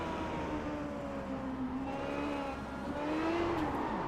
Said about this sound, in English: Same thing again, Rachel. High revs, low gears.